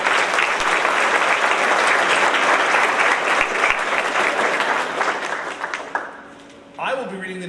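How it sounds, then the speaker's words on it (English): A school audience keeps up dense, even applause at a middle school awards ceremony. It runs steadily for about five seconds, then tapers off into a few last claps, and a voice follows near the end. "Another round of applause for those amazingly dedicated students."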